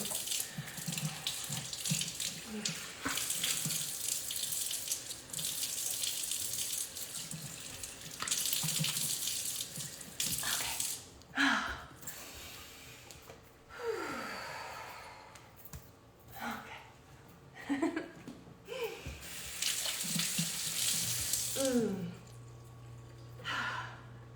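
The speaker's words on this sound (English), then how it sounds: "And the rinsing is important because we don't want all of this staying on top of your skin" Running tap water rinses skin during a summer skincare routine, splashing in long bursts separated by pauses, with soft gasps and someone talking quietly between the rinses.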